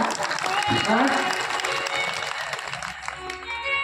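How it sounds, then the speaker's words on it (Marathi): An audience at a Bhagwat Katha religious discourse breaks into a burst of clapping that builds and then tapers off, with voices carrying through the applause. "वाजवा की टाळ्या"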